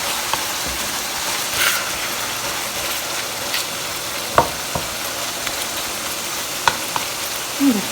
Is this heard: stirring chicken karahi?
yes